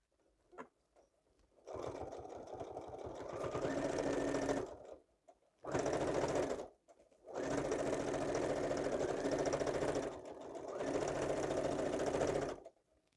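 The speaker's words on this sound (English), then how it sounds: "I'm gonna start with just a straight stitch going all the way around, just to make sure I catch everything" Sewing machine running a straight stitch around the edge of a botanical journal, in four bursts of rapid mechanical chatter separated by short pauses, close and clear.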